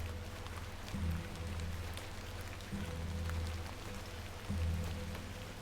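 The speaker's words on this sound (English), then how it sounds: "Let's get out of the rain." Steady rain hisses in The Excavation of Hob's Barrow, a dense constant patter with low rumbling underneath throughout.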